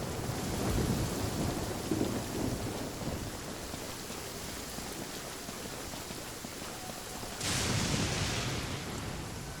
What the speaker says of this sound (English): I do genuinely like how it sounds when it rains.